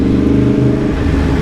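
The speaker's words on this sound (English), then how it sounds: "God, this bike's loud." A loud Yamaha MT-10 motorcycle engine drones and revs steadily up close, a continuous rumbling roar with no pauses.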